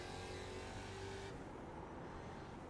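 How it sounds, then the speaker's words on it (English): Ford Mustang GT3 racer's V8 engine in a racing video game, a steady, loud droning roar with harmonic engine tones that cut off partway, leaving a duller rumble, no voices. "that is one really nice thing that the GT3 Mustang is still retained that Mustang sound"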